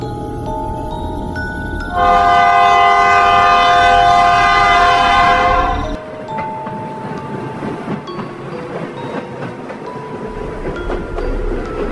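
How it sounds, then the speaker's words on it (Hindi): A train rumbles steadily along the rails, close and loud, and a long horn blast sounds for several seconds before the running noise carries on alone. "अरे, ये ट्रेन इतनी धीरे क्यों चल रही है?"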